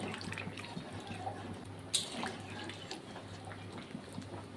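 Water poured into a pot of cooking mutton curry, a soft steady splashing and trickle with a brief drip-like plink partway through, fairly quiet and close.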